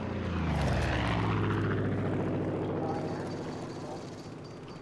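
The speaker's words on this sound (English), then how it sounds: "And watch out for the plane." Propeller airplane passing overhead in the Far Cry 5 game world, a loud droning engine hum that swells and then slowly fades, heard under talk.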